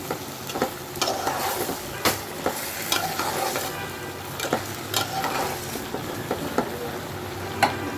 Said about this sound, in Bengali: একটু দেখে দিই কী অবস্থা সবজিগুলোকে আমি আবার একটু নেড়ে দিচ্ছি